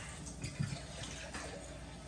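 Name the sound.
water poured into pot with corned beef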